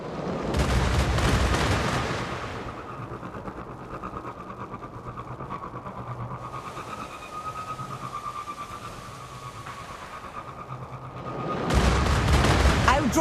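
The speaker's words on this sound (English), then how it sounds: "A Goliath tank. Watch out for its cannon." In Destiny: Rising, a Cabal Goliath tank's cannon fires in heavy bursts at the start and end, with a rumbling engine and dense mechanical clatter droning in between.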